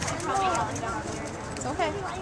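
A ridden horse's hooves clop in an uneven rhythm at moderate distance, partly masked by people talking over the steps.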